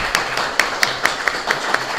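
An audience at a civic event for Blitar's deputy mayor claps in a steady, moderately loud round of applause with distinct individual hand claps standing out, and no talking over it.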